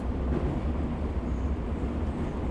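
Subway train rumbling steadily in a radio-play sound effect, a dense low-frequency roar of rail wagons running continuously without pause, fairly close and without voices.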